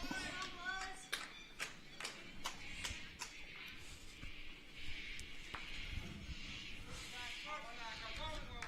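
Clapping from the skipper after a bowl at a senior lawn bowls representative match between NSW and Victoria, several sharp claps spaced across the end in outdoor ambience with murmured voices nearby.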